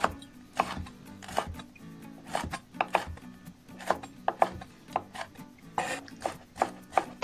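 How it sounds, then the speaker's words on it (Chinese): A knife chops fresh cilantro and small chili peppers on a cutting board, making a quick irregular series of close, crisp thuds with no talk. "香菜洗净以后切断， 小米椒切成小段"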